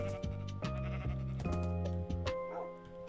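Sheep in the Minecraft video game bleat several times in a row, close and clear, each call a wavering, nasal cry layered over a steady in-game background.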